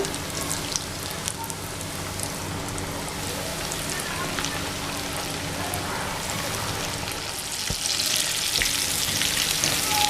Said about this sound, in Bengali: বাকি চিকেনগুলো আমি একইভাবে ভেজে নেব।